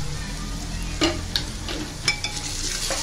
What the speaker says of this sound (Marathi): आपला मसाला चांगला फ्राय झालेला आहे।